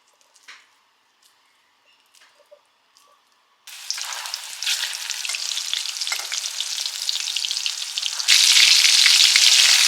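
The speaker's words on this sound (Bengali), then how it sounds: "এবার ছোট ছোট করে বল করব আর ফ্রাই করব" Small spiced balls hand-rolled with a little oil and frying in oil; quiet handling sounds give way to a loud, steady sizzle that grows even stronger near the end, with no talk.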